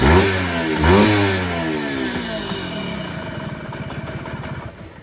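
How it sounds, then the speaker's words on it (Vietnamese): Yamaha YB1 50cc two-stroke motorcycle engine revs up twice with a sharp, buzzing whine, then settles back into a choppy, popping idle, close and loud. "Xe này chạy cái máy nó hú giống như là"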